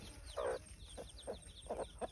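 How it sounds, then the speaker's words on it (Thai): Hens and chicks in a home garden cluck in short bursts, with a louder call near the start and several softer clucks following at irregular intervals over faint high insect-like noise. "ไหนดูลูกไก่ลูกเจี๊ยบ"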